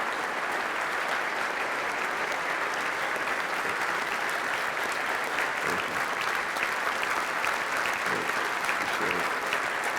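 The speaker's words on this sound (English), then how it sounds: "I think some Alabama, Georgia, and Florida fans clapped for me" An audience applauds Inky Johnson at a speaking event, with steady, sustained clapping from a large crowd filling the hall throughout and no break or fade.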